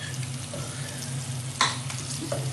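Curry spices from a jar sizzle gently in a pan over low heat while a utensil stirs them, with a soft continuous frying hiss and one brief scrape, no voices.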